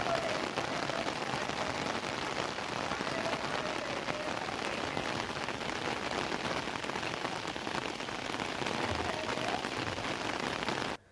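Steady rain falls across Kodaikanal and its surroundings, a dense, continuous hiss of drops on surfaces that holds at an even, fairly soft level and ends abruptly, with no voices present.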